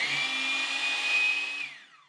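A DeWalt 20V MAX cordless 7-1/4 inch miter saw spins up with a steady high motor whine for about a second and a half, then winds down as the blade coasts to a stop, heard alone and fairly close.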